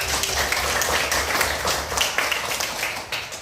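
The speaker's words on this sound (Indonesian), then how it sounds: "Berikan tepuk tangan kepada" A classroom of students applauds group one after a lesson on human digestion, a dense, steady patter of many hands clapping at fairly close range without a break, with no talk over it.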